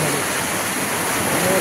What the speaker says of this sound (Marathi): पाणी कसं आवाज करतं.